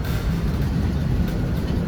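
A train rolls past on a track limited to 35–40 mph, a steady, loud rumble with rail noise holding constant throughout, no voices.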